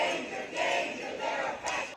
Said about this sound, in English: hundreds of protesters hit the streets in Washington, D.C., chanting slogans and holding signboards